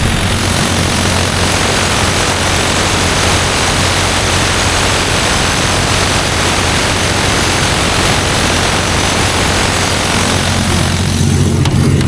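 A 200 kW generator engine runs under a load test, a loud, continuous roar steady at high load, dense and unbroken throughout, with a faint change near the end.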